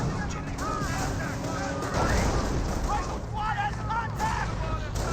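A mortar barrage in Company of Heroes bursts in scattered thuds among crackling small-arms fire in a busy battle, under a commentator's voice.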